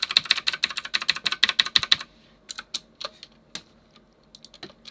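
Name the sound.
typing on a loud clicky computer keyboard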